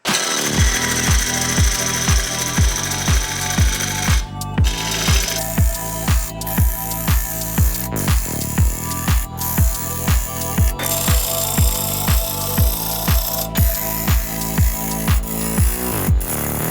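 A woodturning tool cuts into a cracked, bug-infested log spinning on a lathe, producing a loud, continuous rhythmic chattering thump with each rotation, plus occasional sharp ticks, running steadily throughout with no talk.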